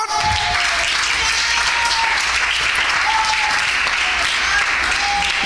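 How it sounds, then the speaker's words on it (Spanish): Loud, sustained applause from a church congregation during a Spanish-language sermon, a thick wash of clapping that holds steady with a few faint tonal sounds drifting through. "¿Cuánto le damos un aplauso fuerte al Señor?"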